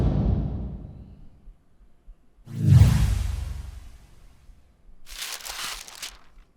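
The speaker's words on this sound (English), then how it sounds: "And so the paper sound effects." Paper sound effects: a fading rustle, then a louder crumpling sweep, then a brief crisp shuffle near the end. They are close and heard alone in a quiet background.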